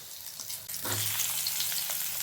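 Thick eggplant slices fry in plenty of oil, going from a quiet start into a loud, steady sizzle and crackle that carries on alone.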